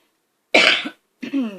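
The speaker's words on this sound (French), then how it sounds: "si vous m'entendez tousser, c'est normal, j'ai les poumons assez pris" A single harsh cough rings out close by from a person with congested lungs, followed after a short pause by a raspy throat-clearing sound.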